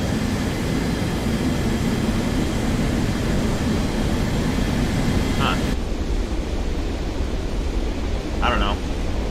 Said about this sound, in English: It's pretty good engine sounds